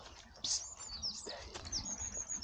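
Pigeons taking off from a field on a countryside walk, a sudden burst of flapping wings followed by further flutters, faint and a little distant.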